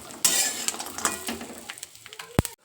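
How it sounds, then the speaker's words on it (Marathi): Coconut roasts in oil in a pan as a spoon scrapes and clinks against the metal, over a faint sizzle, with one sharp knock near the end and no talking. "खोबरं पण छान थोडं कलर चेंज होईपर्यंत भाजून घ्यायचं तेल टाकूया छान परतून घेऊया"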